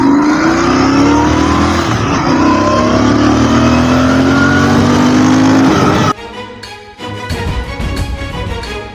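A Royal Enfield GT 650 twin-cylinder motorcycle accelerates hard, its loud, close engine note climbing steadily through the revs for several seconds, then cutting off abruptly into rougher, fluttering idle-like bursts.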